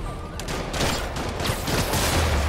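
Gunfire in a video game: a steady stretch of overlapping shots and crackling bursts, fairly loud and continuous, set against busy game noise with no voices heard.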